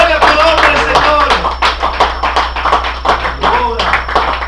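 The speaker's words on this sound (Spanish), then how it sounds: "Denle un fuerte aplauso al Señor" A church congregation claps loudly and steadily together in rhythm, close and full, with voices calling out and singing over the clapping.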